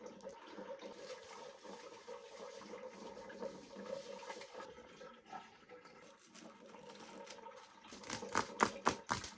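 Running water splashes and rinses through hair to wash out blonde dye, a steady close stream ending in louder sloshing and dripping bursts.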